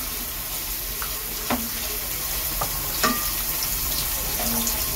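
Chopped onions sizzle steadily in a hot pan, with occasional scrapes and clinks of a spoon stirring them.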